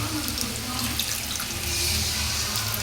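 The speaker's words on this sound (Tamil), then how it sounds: "கிரேவி ஊற்றிட்டு நல்லா அடி பிடிக்காமல் கிண்டணும்." Gravy being poured over shredded kothu parotta in a small pan, giving a steady, continuous liquid wash and splatter that runs the whole time with no talking.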